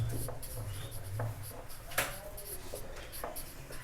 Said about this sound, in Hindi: मैं डायरेक्ट लिख रहा हूं